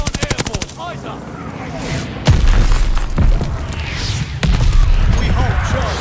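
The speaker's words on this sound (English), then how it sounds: "Allies calling a mortar barrage!" Call of Duty: Vanguard combat, rapid machine-gun bursts giving way to heavy mortar barrage explosions that thud and rumble loud and close, with voices shouting amid the fire.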